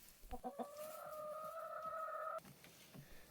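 Chickens in a winter coop with deep-litter bedding cluck softly, then one hen gives a long, sustained tonal call; quiet, close, with a few short clucks before and after and no talking.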